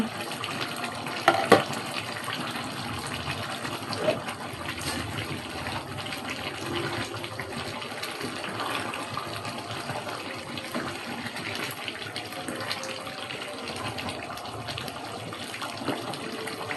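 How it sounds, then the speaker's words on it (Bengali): Beef curry boiling in a covered pot, giving a steady bubbling, hissing simmer throughout with a couple of brief clinks early on. "তো বলক উঠে গেছে, সিদ্ধ হচ্ছে"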